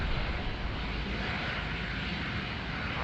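An airliner rolls down the runway at Sydney Airport, a steady, broad engine roar heard from a distance, continuous and unbroken for a few seconds.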